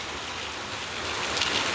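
Steady rain hisses down in a continuous wash of noise, with no voices or distinct drops standing out.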